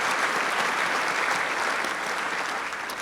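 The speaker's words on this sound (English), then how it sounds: "Please give them a round of applause." A school district audience applauds at a State of the Schools address, dense steady clapping filling the room at full volume throughout.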